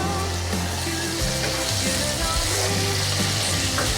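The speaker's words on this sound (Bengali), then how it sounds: "এই জলেই সিমে সিমে করে তরকারিটা রান্না করব" Vegetable curry simmering covered in its own released water, a steady close bubbling sizzle with soft crackles, continuous and even throughout with no talk.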